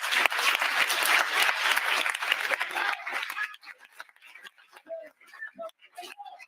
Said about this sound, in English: you should give each one of you a round of applause